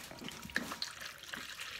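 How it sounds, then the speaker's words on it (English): Warm water poured into a bowl for a preschool bubble experiment: a steady, soft splashing stream runs throughout, fairly quiet and close, with no talking. "We're going to pour really warm water."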